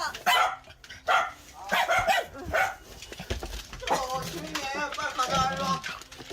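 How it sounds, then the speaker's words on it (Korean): Two dogs, aged four and nine, bark at a visitor at home, loud repeated barks mixed with yips while people talk over them. "집에 누가 오면 이렇게 짖나요, 얘들이?"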